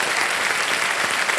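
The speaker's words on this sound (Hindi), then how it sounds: "तालियां बज जाए उनके लिए" Studio audience of a televised quiz show gives loud, continuous applause, a thick steady wash of many hands clapping close by.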